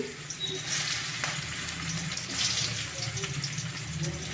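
Chopped ginger, garlic and chilli sizzle steadily in hot oil in a wok while a restaurant-style crispy chicken sauce is started, giving a dense, continuous frying hiss throughout with no talk.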